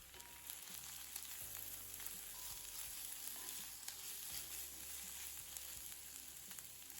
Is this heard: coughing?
no